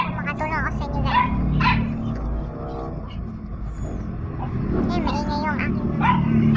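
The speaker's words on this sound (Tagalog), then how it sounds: "Maingay kasi yung aso ko eh." Dogs at home bark, yip and whimper repeatedly in short bursts at close range, with a person talking and other household noise mixed in.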